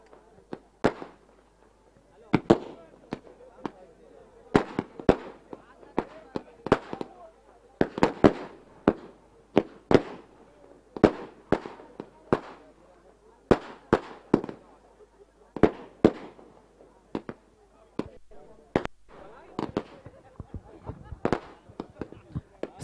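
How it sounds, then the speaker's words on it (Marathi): Fireworks and firecrackers crackle at a cricket semi-final, a rapid series of loud sharp bangs and pops in irregular bursts, with crowd noise and a commentator's voice running underneath. "अतिशय फटाक्यांची आतषबाजी इथे मात्र पाहायला मिळते."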